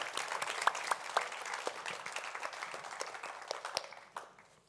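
An audience at a festival opening ceremony claps together in a warm, sustained burst that fades away toward the end, with a few sharper individual claps standing out over the crowd.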